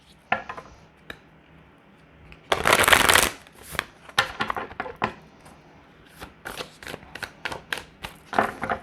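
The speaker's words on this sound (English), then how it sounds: "All right, let's get these shuffled." Oracle cards are shuffled by hand in a quiet room: a loud, dense riffle burst near the start, followed by a series of sharper, rhythmic card slaps and flicks, close to the microphone, with no talking.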